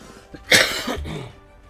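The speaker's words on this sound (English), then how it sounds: "Hold on, guys. I got a cough." A single sharp cough bursts out close to the mic during live commentary on a Clash of Clans match, followed by a brief rougher throat sound that trails off.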